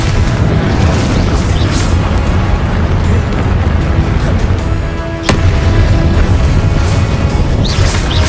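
Confringo blasting spells explode in Hogwarts Legacy, a dense, loud, continuous roar of booms and rumble that dips briefly, then breaks into a sharp crack before the din resumes, with no talking.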